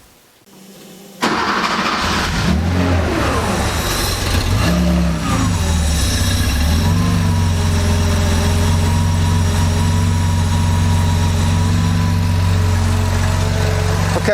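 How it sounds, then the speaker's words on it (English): A Porsche engine with CIS fuel injection cranks and fires, surges briefly, then settles into a steady, close, even idle that holds for the rest of the clip. "right now we've got the engine at a fairly steady idle"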